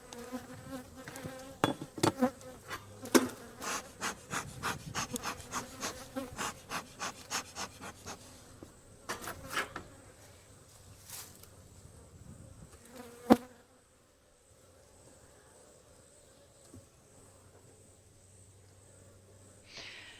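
Honeybees buzz loudly and close around their hive, with dense droning and sharp passing whines; the swarm fades to a quieter hum partway through.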